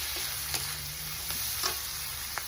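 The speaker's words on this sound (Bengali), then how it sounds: "এরকম এটা কিন্তু ভাজা চলছে এখনো দেখেছ" Spices with salt and turmeric frying in a pan, a close, steady hissing sizzle with a few short stirring knocks scattered through.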